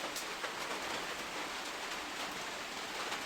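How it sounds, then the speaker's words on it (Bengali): Rain pours steadily onto a house and leaks through the roof indoors, a dense continuous patter close by with faint individual drips, no talking. "আঙ্গ ঘরের এইখানে বৃষ্টি পড়ে, টপ টপ টপ টপ করে শব্দ হচ্ছে।"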